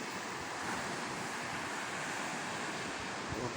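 Sea waves and surf roll steadily in a constant broadband wash, with wind buffeting the microphone throughout and no voices.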